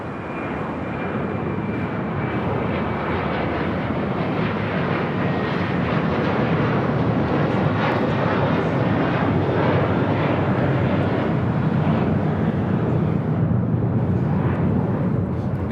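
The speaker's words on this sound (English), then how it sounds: "American Airlines Flight 4 taking off to JFK on an A321" An American Airlines A321 roars steadily through its takeoff roll and climb at LAX, a loud continuous engine rumble heard from nearby without talk.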